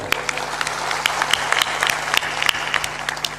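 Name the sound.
audience applause at a religious discourse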